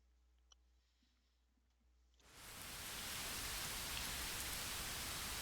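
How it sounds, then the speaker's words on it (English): Rain in the fantasy role-playing game Pathfinder: Wrath of the Righteous swells from near quiet into a steady, hissing downpour that stays even and constant, with no voices. "It's raining, but at least it's not raining blood."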